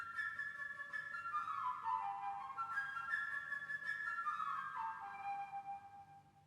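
A solo flute plays the light, quick bird theme from Peter and the Wolf, its melody darting up and down in bright, fluttering runs, soft and fairly close, with no talking.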